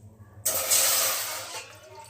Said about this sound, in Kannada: ಇದಕ್ಕೆ ಇವಾಗ 3 ಗ್ಲಾಸಷ್ಟು ನೀರು ಹಾಕ್ಕೊಳ್ಳಿ.